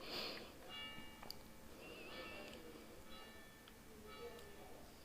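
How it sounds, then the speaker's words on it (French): A church bell rings out behind the scene with repeated tolls and lingering overtones, moderately distant under a soft room background. "Désolé pour l'église qui est en train de s'exciter derrière avec sa cloche."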